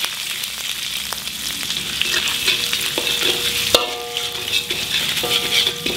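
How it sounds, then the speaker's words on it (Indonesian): About two cloves of garlic sizzle in a little hot oil in a wok, a steady frying hiss with scattered stirring scrapes and clinks of a utensil, no talking. "Kita tumis dulu sebentar."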